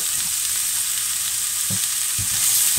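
Washed rice frying with onions in a pan for a shrimp and courgette risotto, giving a continuous soft sizzle with a few low stirring thumps near the end, close up, with no voices.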